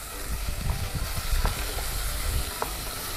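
Food stir-frying in a pan at a street-food stall, a steady sizzling hiss with faint scraping stirs running throughout, fairly close and without talk.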